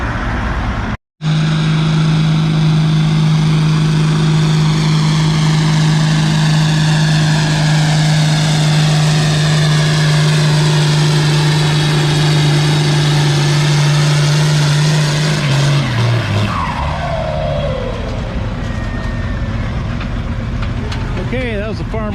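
Farmall 1256 tractor engine at a vintage tractor pull in Lynden, Washington, roaring steadily at a loud sustained pitch for about fifteen seconds, then dropping off as it winds down, with crowd and announcer voices underneath.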